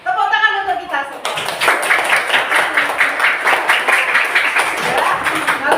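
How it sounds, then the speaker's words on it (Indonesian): A burst of group clapping in a classroom, steady and rhythmic, many hands together filling the room after a brief voice. "Tepuk tangan untuk kita semua."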